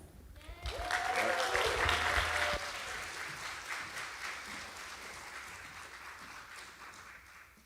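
An audience applauds to welcome a singer and a band as musical guests at a live community event, with steady, full clapping that swells, then slowly thins, and some cheering near the start.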